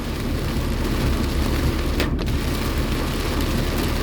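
Heavy rain pours steadily and loudly on the way into Udon Thani, Thailand, a dense continuous hiss that stays even from start to finish, with a brief dip near the middle and no voices.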